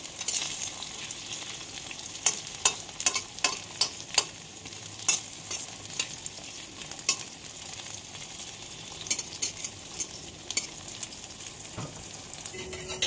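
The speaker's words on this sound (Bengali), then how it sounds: "এই যে সমস্ত কাঁকরোল দেওয়া হয়ে গেল। এখন ঢেকে ঢেকে লাল লাল করে ভেজে নেব।" Teasel gourd (kakrol) frying in oil in a covered pan, a soft, even sizzle broken by frequent sharp crackles and pops, fairly faint and with no voices.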